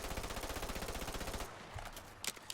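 Rapid automatic gunfire from a weapon in the video game Fallout 4 rattles in a steady, loud burst for about a second and a half, then cuts off, leaving a quieter stretch with a few sharp clicks and knocks.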